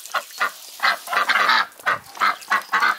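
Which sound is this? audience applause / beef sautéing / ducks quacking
ducks quacking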